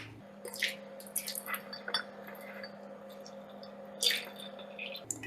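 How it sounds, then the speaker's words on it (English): Hot water rinses a Hario paper filter set in a cone dripper, with soft trickling and dripping, a few light glassy clinks and squishy splashes over a steady low hum, fairly close and without talk. "Once I have that, I'm going to be rinsing it"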